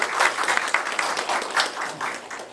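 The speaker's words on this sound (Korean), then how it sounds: "우리 여기 발제와 토론을 맡아줄 우리 선생님들께도 박수 한번 보내주세요." An audience at a panel debate forum gives a round of applause for the presenters and panelists, a short burst of distinct, fairly close handclaps with an uneven rhythm that stays moderately loud.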